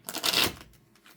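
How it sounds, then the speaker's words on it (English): Tarot cards are riffled and shuffled by hand in a quick, papery burst lasting about half a second, then trail off into quiet, close and fairly soft. "These are hard for me to shuffle sometimes."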